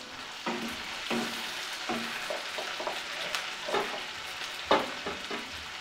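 Chopped tomato goes into frying chicken biryani masala in a pan, giving a close continuous sizzle broken by repeated scraping spoon strokes as the mixture is stirred, with no talking.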